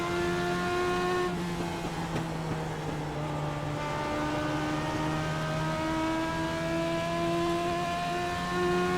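A Legends race car lapping a racetrack at Southern National Motorsports Park, its engine droning steadily with rising and falling pitch as it shifts and works through corners, heard alone without talk.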